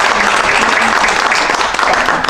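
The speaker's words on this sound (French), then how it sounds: "Oui, on peut l'applaudir." Attendees at a municipal council meeting in Levens applaud, a continuous, fairly loud round of clapping from a modest crowd in a meeting room, with faint voices underneath.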